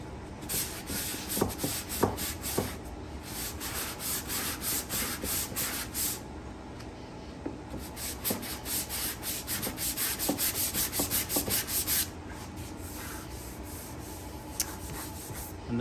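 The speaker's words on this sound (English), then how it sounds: "Did I ever say sanding takes some time?" Steady hand sanding on wood, a dry rhythmic scratching rasp in repeated back-and-forth strokes, close and continuous with brief pauses.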